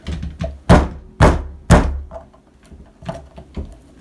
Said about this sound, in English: Get the door closed.